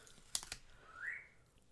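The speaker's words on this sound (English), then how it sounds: "Can you guys hear his whistling?" A bright rising whistle from an African grey parrot follows a couple of sharp clicks and rustles, then trails off; quiet and close, with no talking.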